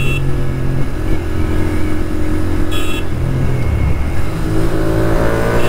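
A Royal Enfield GT650 motorcycle fitted with a full system exhaust rumbles and revs on the road. A loud, continuous engine drone rises and falls with throttle changes, set against surrounding traffic noise.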